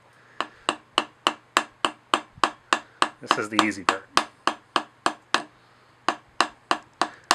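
A hammer taps an O-ring tool into a 4G63 engine block in a steady, even rhythm, about two strikes per second, with a brief spoken phrase midway and a short pause near the end.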